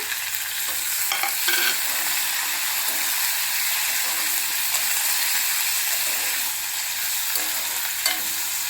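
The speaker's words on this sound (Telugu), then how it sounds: "ఇప్పుడు ఉల్లిపాయ ముక్కలు ఈ కరివేపాకు వేసేద్దామండి" Onion pieces and curry leaves sizzling in hot tempering oil for a sweet bitter gourd dish, a loud, even crackling hiss with occasional stirring scrapes.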